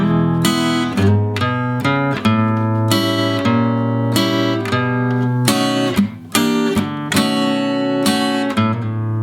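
An electric guitar plays a slow blues turnaround in E, with distinct chord strikes and single-note runs ringing close and clear, no voices.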